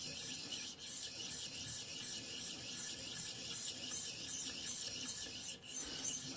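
Steady rasping strokes of a Civivi Mandate knife blade being sharpened on a ViperSharp sharpener, a continuous close scraping with a couple of brief pauses, no voices.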